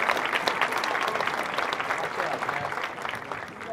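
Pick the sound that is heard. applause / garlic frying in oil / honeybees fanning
applause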